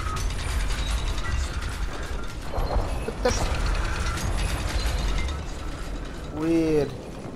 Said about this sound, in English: We've got a haunted door here.